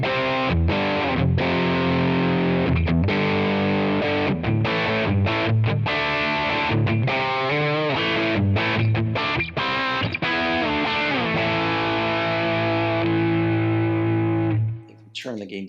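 Heavily distorted electric guitar, a PRS SE Studio Standard through a Marshall amp, plays a driving high-gain rhythm of chugging chords and stops, then sustains a held chord that cuts off near the end.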